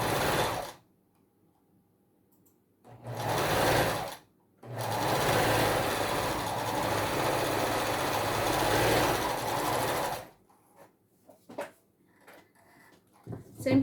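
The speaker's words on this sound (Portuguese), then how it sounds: "então costurei de um lado, vou vir e vou costurar do outro" A sewing machine stitches layers of fabric for a teddy bear project in two bursts, a short run followed by a longer steady whir of about six seconds, close by, with quiet pauses and small handling noises between.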